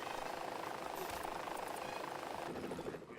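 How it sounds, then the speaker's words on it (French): A small pocket helicopter in the Lego Dimensions video game gives off a steady whirring rotor drone that holds throughout, then dips and thins near the end. "je libère le passage pour mon petit hélicoptère de poche"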